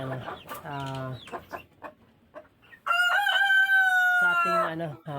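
A crossbred Rhode Island Red chicken clucks in short rhythmic calls, then gives a long, loud, close crow.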